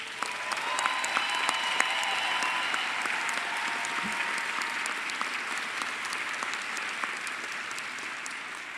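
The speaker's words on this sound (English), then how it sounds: "all of the staff members at Cal State LA, all of whom are here working for you, deserve your applause" An audience at a university graduation ceremony at Cal State LA claps for staff members, a dense steady wash of applause in a large space that keeps going throughout with scattered louder claps and faint cheers.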